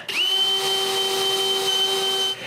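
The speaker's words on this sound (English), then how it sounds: "I drill a hole that I'll fill with wood" A power drill bores a hole in wood, a steady high whine running at constant speed for a couple of seconds, close and loud with no talk.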